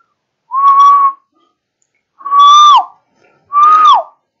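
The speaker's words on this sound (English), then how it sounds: "Now I blow a whistle." Someone blows a whistle three times near a sound-detection circuit: three clear, shrill blasts separated by silence, the last two ending with a falling pitch.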